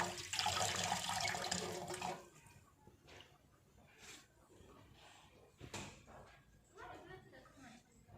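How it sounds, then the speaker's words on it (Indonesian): Tap water runs loudly over instruments being rinsed for sterilisation for about two seconds, then drops to faint splashes and clinks under a voice talking. "bilas alat pada air mengalir"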